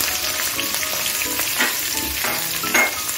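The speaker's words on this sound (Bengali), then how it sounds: "এখন আমি পেঁয়াজটা মিডিয়াম করে ভেজে নিচ্ছি।" Sliced onion frying in hot oil with black cumin seeds, a steady close sizzle with scraping stirs and small bursts of crackle throughout, no talking.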